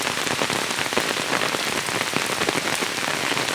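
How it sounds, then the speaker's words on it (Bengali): Heavy rain pours steadily, a dense, loud hiss of drops drumming on surfaces nearby, constant without pause. "এমনভাবে বৃষ্টি হচ্ছে"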